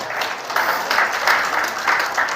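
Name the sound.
audience applause for God in church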